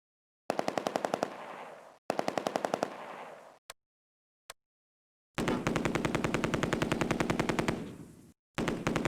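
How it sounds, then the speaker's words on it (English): Bursts of machine-gun fire in the WWII strategy game Close Combat: A Bridge Too Far, two short rapid volleys, a couple of isolated shots, then a long sustained burst and a final one, loud and close. "Is there somebody just shooting out of there?"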